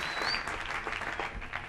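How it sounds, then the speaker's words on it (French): A church congregation applauds with a soft, steady patter of many hands, heard from some distance with scattered cheers woven through. "Nous acclamons la parole du Seigneur avec des applaudissements et des acclamations"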